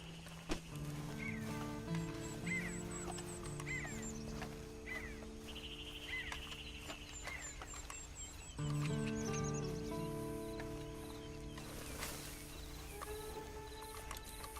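A horse whinnies and snorts amid clip-clopping hooves in the open-world game Red Dead Redemption 2, with birdsong and ambient game music layered throughout at a steady moderate level.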